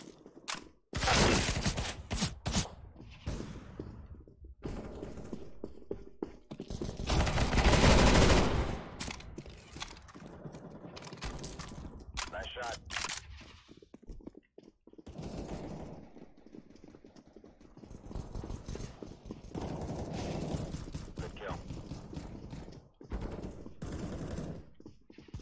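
Rapid gunfire from Counter-Strike: Global Offensive, with loud bursts of automatic shots and scattered single cracks over the whole stretch, dense and close with only short lulls.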